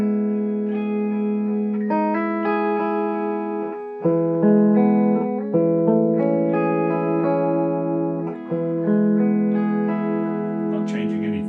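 Electric guitar played clean through a Matchless Spitfire clone amp with no pedals, ringing sustained chords with a chimey, swirly shimmer and natural reverb-like tail, loud and alone.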